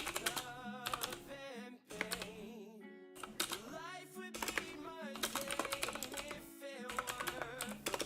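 Rapid clicking of fingers typing on a computer keyboard, close and fairly steady in short bursts, laid over a continuous bed of tonal music or voice-like sound.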